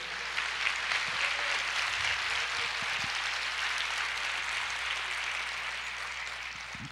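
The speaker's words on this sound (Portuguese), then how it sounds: "Você pode aplaudir o Senhor?" A church congregation applauding, a steady, fairly soft wash of many hands clapping that carries on for several seconds and fades slightly at the end.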